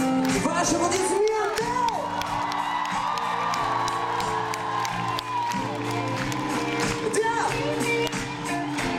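A large concert crowd at Crocus City Hall applauds and cheers steadily, with whoops and shouts over the clapping, loud and sustained throughout.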